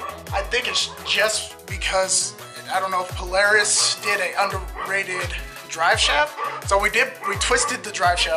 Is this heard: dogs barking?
yes